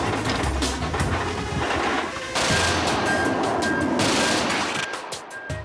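A MiG-29 tactical fighter's 30mm single-barrel cannon, rated at 1,800 rounds a minute, fires in loud, rapid bursts. Dense roaring volleys are broken by brief pauses and the fire cuts off near the end.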